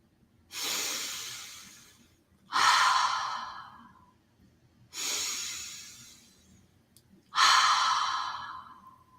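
Slow breathwork breathing, four long audible breaths in and out in a steady rhythm, each a rushing airy swell that fades, close and alone with no talk.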